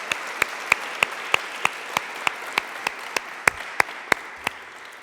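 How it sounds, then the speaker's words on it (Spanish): Audience at a university-themed Spanish-language event applauds, a soft steady patter of clapping punctuated by about a dozen sharper, evenly spaced claps standing out close by. "Muchas gracias y un aplauso nuevamente"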